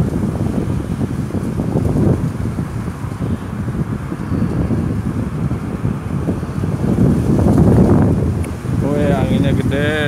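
Strong wind buffeting the microphone outdoors beside a wide parking area near a toll road, a steady loud roar throughout with someone talking over it.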